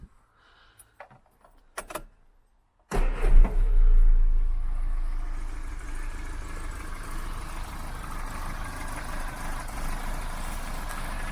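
Austin Allegro engine starts up and settles into a steady idle, running close and continuous after a few small clicks and key jangles at the start.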